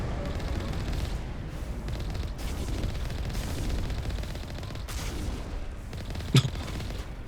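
Missiles launched during combat in Mass Effect Legendary Edition: a steady, muffled rumble of fire and distant blasts at low level, with one sharp, brief crack standing out near the end.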